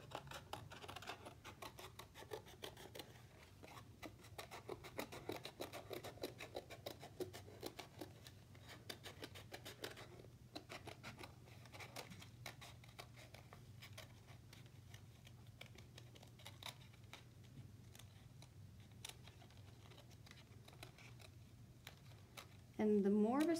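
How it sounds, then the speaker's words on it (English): Scissors snip steadily through a paper plate, cutting it round into a spiral with a soft, repeated crisp rhythm close by, ending in a brief louder burst of noise. "I'm just going to cut a spiral"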